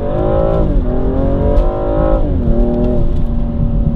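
A 3,900-pound BMW M235i convertible accelerates hard, its engine note climbing steadily through the revs, dropping at a gear change and rising again, loud and close with no talking.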